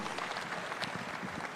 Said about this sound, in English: One more round of applause for His Excellency